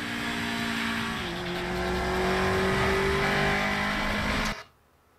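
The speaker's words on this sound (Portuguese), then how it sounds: "Olha o VTEC abrindo." A Honda engine from a film climbs steadily in revs as VTEC engages, a loud sustained tone rising in pitch for about four and a half seconds before cutting off abruptly.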